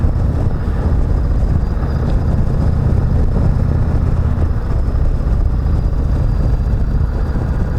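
A 2019 Indian Chieftain Limited motorcycle with aftermarket pipes rumbles at a steady pace, a loud, dense, continuous low engine drone heard up close with wind and road noise and no talking.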